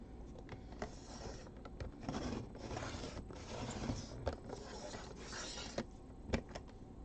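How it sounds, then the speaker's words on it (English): Close rasping and rubbing as a piece is trimmed off, a steady scraping texture broken by a few sharp ticks and snaps, with no talk. "I think I need to trim this side off just a little bit."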